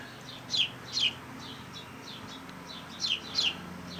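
Birds chirp outdoors in short bursts of quick, high notes, two pairs of calls separated by a pause, over a quiet background.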